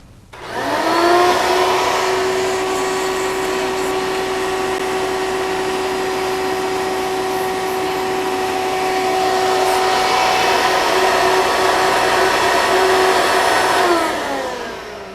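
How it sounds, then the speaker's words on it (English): A vacuum cleaner drones steadily and loudly for about fourteen seconds, sucking dust and dirt out of a White Model 1418 sewing machine, starting abruptly and winding down at the end. "It's a lot better to take and use a vacuum cleaner because you're actually going to suck the dirt out."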